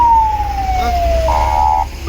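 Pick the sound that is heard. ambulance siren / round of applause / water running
ambulance siren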